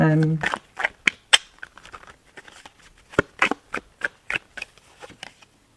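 Tarot cards are shuffled and drawn during a reading, giving a brisk flurry of riffling at the start and then scattered soft snaps and slaps of cards being laid down, close and fairly quiet, with speech between the sounds.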